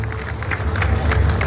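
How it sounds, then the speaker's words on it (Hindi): Applause and cheering from a crowd at an outdoor earth-breaking ceremony for a housing project, a brief dense burst of clapping over low rumbling crowd noise. "जोरदार तालियां होनी चाहिए सबके लिए"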